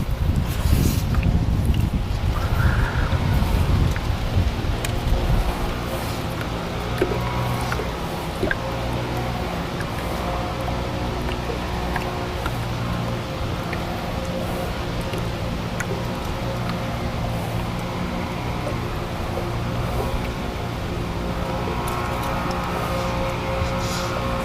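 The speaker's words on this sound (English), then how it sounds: "I think the wind is pushing me off that gravel bar." Wind buffets a microphone on a boat while fishing near a gravel bar, a steady rushing noise with light water splashes and drips throughout, no voices.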